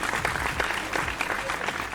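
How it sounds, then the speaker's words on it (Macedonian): An audience applauds at a singing competition finale, with dense, steady clapping filling the room and a voice faintly underneath. "затоа да дадеме еден голем аплауз"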